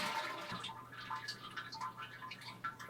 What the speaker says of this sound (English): Look at this flush. You push this here.